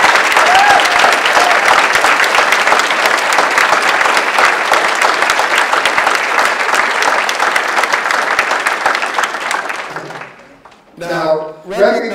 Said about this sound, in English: So let's please applaud our very distinguished alums.